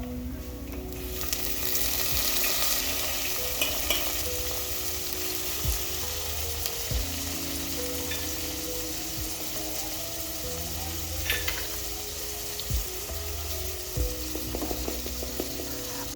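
Boiled beef and garlic paste frying together in a pot for beef pilau, a steady close sizzle with occasional spoon knocks and scraping as it is stirred, no talk over it.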